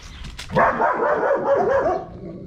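Puppies bark and yip in a quick run of overlapping high barks, close and fairly loud, filling most of the moment with no talk over them.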